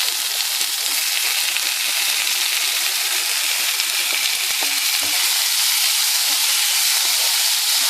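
Onions and tomatoes sauté in a pan for kovakka poriyal, a loud, close, dense hiss of sizzling that runs unbroken throughout, with faint stirring underneath and no voices.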